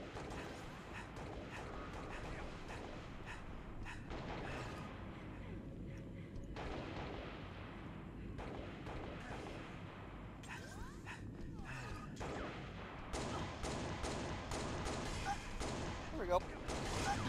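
Pistol gunfire in Halo: Reach, played on PC, in rapid irregular shots mixed with game combat noise and explosions throughout, with someone talking over it.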